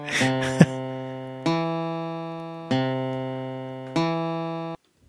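Four low, synthetic-sounding guitar bass notes play back from tab software one after another at an even pace, each ringing out and fading before the next.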